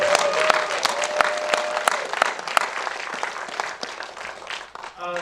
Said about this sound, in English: So give them another big round of applause.